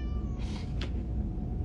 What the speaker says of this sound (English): Tell him he is a pretty cat.